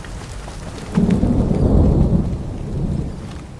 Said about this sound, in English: Okay, so now it's raining.